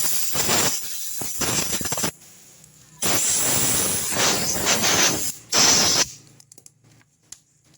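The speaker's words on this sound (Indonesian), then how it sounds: "Nah, kita coba semprot terus, kita bersihkan saja." Cleaner is sprayed into the fuel injector of a Honda Revo Fit FI motorcycle in short, loud, close hissing bursts separated by brief pauses, ending in quiet.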